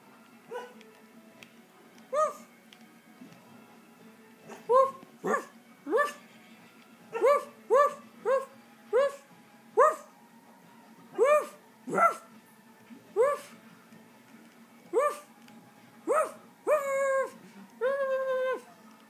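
Puppy in the video game Lego Batman 3 barking and yipping in a steady run of short, fairly close barks, with a few drawn-out whiny ones near the end.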